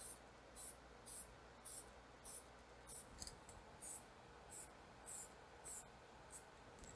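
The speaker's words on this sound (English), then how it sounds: "what this is this is a color tinted lacquer. So as I'm spraying, it's very lightly toned" A spray gun lays down color tinted lacquer in a quick series of short, regular hissing bursts, roughly a dozen evenly spaced puffs against a quiet background, faint and close.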